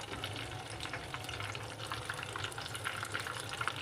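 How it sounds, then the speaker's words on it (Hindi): Breaded chicken fries in oil over medium-low heat, a continuous bubbling, crackling hiss that stays even and close throughout. "चलिए आप इसे हम फ्राई करते हैं।"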